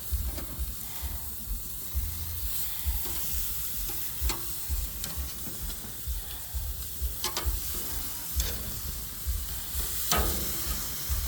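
Cut pieces of picanha steak sizzle steadily on a grill grate, a constant close hiss broken by occasional sharp pops and crackles.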